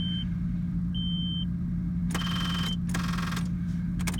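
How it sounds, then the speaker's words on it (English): Warning beeper in a 1986 GMC Blue Bird bus beeps in short bursts that stop and start again, heard over a steady low engine drone. "That beeper would stop, it would start."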